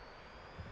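An F-4B Phantom jet engine running at full power in DCS World, a broad, steady roar held close and constant, with a faint low thump near the end and no voices.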